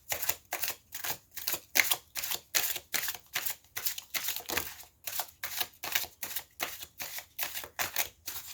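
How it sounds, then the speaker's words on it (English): Crisp, rhythmic bursts of riffling cards repeat about twice a second, each a short papery flutter, close up with quiet gaps between. "Let me shuffle the deck and see what comes out for you."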